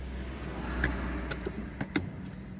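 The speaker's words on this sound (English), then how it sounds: "Oh, there is another car that's turning around." A car turning around on a quiet street in Algiers, heard as a steady, moderate vehicle hum with low engine rumble and a few brief clicks and knocks, without talk.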